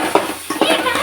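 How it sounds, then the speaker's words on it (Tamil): A spoon stirs beans, potato and carrot in oil in a pan for Maggi noodles, giving a few short scraping, clinking bursts close by in about a second of sound. "மொத்தமாகவே எல்லாத்தையும் போட்டு நம்ம நல்லா கிண்டிக்கலாம்."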